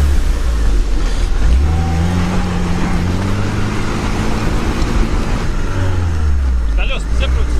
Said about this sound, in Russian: Колеса все крутятся, смотрите.